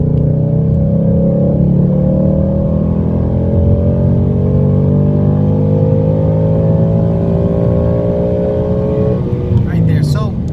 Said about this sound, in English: Go wide open throttle in third gear.